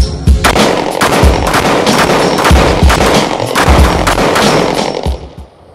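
A CZ P07 pistol fires a full magazine, many sharp close-range shots in quick irregular succession over nearly six seconds, loud and unbroken until the final round fades out.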